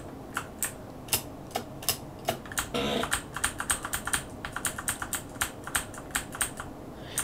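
Computer keys tapped in irregular clusters of sharp, close clicks, with a short burst of rapid typing partway through, over a faint background hum.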